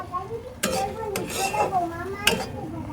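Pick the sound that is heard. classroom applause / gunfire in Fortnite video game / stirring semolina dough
stirring semolina dough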